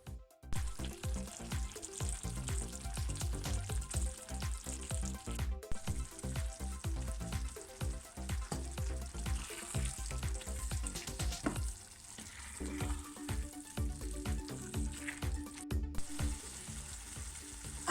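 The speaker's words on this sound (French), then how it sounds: "Et là, je vais laisser mijoter à feu doux jusqu'à ce que ça réduise." Tchoutchouka simmers and reduces in a pan over low heat, giving a steady, dense sizzling bubble with scattered soft pops and crackles. It continues at an even level throughout with no voices.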